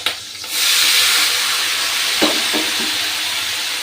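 Chunks of ash gourd tipped into a hot pan of fried prawns with bay leaf, turmeric and salt, setting off a loud, steady sizzle and hiss, with a few soft stirring scrapes near the end.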